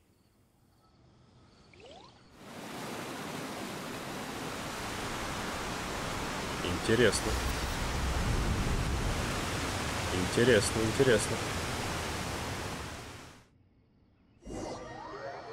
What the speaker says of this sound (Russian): Воду больше не держать, вот она и вырывается наружу, плюх, чистая и холодненькая.